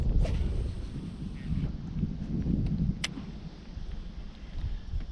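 Wind gusting across a lake with light chop during bass fishing from a boat, a steady broad rushing roar with microphone buffeting that swells and eases throughout, with a brief faint knock partway through.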